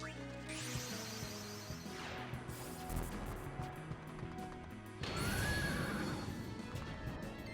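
A horse neighs during a normal attack in the Final Fantasy X video game, its whinny set against layered game music, followed by a loud crashing impact and a bright, noisy surge of battle sound.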